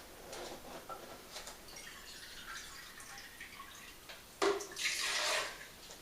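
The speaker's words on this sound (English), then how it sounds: "And it starts off with 1 cup of water," A cup of water is poured for a balsamic dressing, faint and close, with a few soft drips, then a brief splashing pour near the end.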